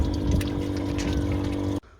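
Water pours steadily into the coolant system of a Ford Mondeo Mk4 1.8 TDCI, a close continuous gushing that stops abruptly near the end.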